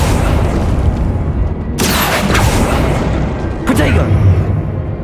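Confringo fire spells blast in the Hogwarts Legacy video game, with two sharp explosive bursts over dense, loud battle noise and music.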